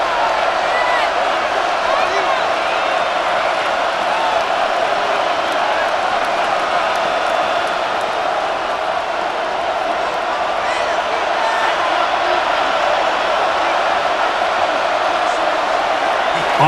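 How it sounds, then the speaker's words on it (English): Stadium crowd noise from Madden NFL 26 during a Green Bay Packers versus Minnesota Vikings game hums as a steady, distant roar of cheering throughout, with an announcer talking over it. "And they're going to hear it from this crowd."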